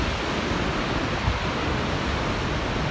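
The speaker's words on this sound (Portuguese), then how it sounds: "as cataratas." Niagara Falls pours with a dense, steady roar of heavy falling water, loud and unbroken throughout with no voices over it.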